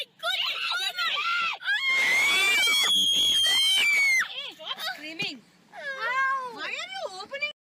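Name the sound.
children screaming in a car as a bear opens the door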